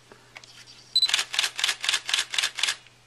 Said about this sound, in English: let's demonstrate the fast shutter speed on this camera. It's rated at about 4 frames per second.